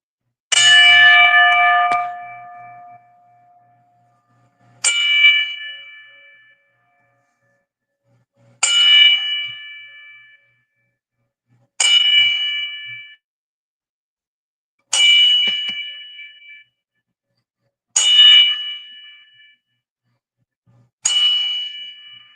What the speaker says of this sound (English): we're gonna go ahead and do our brief 10 bell salute